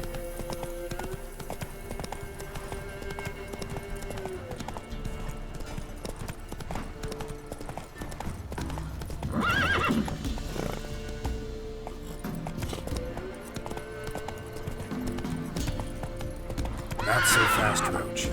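Roach the horse in The Witcher 3 clip-clops at a steady gallop, hooves drumming throughout, with two loud whinnies breaking out around the middle and near the end over a game music bed.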